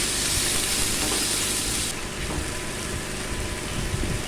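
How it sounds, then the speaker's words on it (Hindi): Garlic paste and chicken fry in hot oil, giving a loud, steady, close-up sizzle with crackling bursts throughout. The hiss dulls slightly about halfway through as the cooking goes on, and nobody speaks. "एक चाय का चम्मच हम लहसुन का पेस्ट शामिल करके उसको फ्राई करेंगे"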